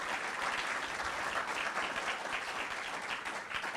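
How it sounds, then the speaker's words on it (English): A lecture audience breaks into applause after a PubTalk, a dense, even wash of clapping that holds steady for a few seconds without any voices. "please, a round of applause"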